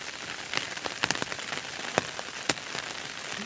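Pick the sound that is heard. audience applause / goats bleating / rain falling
rain falling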